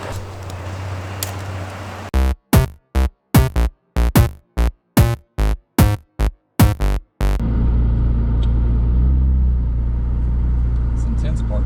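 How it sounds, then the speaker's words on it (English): A McLaren 600LT supercar's engine rumbles low and steady while driving, broken midway by a run of sharp, evenly spaced pulsing bursts before settling back into a continuous loud drone. "All right, time to scare Buddy in the McLaren."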